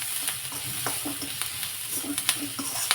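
Chopped onion with a pinch of salt frying in a pan, a constant close sizzle broken by quick clicks and scrapes of a spatula stirring, loud and with no talk.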